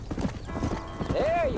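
Horses clip-clopping into a pen in the Red Dead Redemption video game, quick uneven hoof knocks on dirt closely spaced, ending with a short whinny while someone speaks over them.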